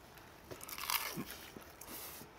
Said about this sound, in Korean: 김 그 바삭함 미쳤어